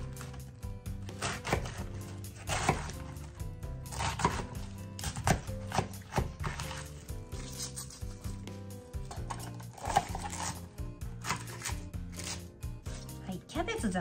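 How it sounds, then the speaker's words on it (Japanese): Knife roughly chopping spring cabbage on a cutting board, producing quiet, irregular close knocks and crunchy strokes, with someone talking over the chopping. "キャベツざく切りにしてバラバラにしておきます"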